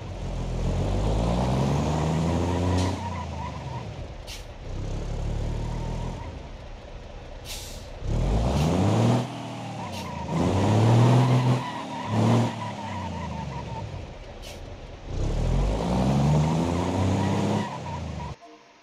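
Heavy trucks in the BeamNG.drive driving game, engines revving up and down in repeated surges with hissing air brakes and tire skids, loud and close, no talking.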